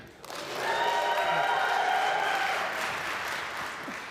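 Union members at a Wisconsin workers' forum for governor cheer and applaud together, a broad sustained roar of claps and whoops filling a large room, with a few voices rising above the crowd noise.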